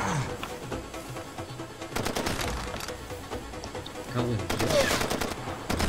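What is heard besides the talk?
gunfire in the video game Far Cry 2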